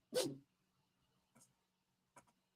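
A dog gives one short, sharp bark up close, followed by two fainter, brief snorting or sneezing sounds in an otherwise quiet room.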